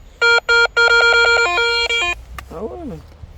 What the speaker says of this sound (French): Je crois que c'est un détecteur de métaux.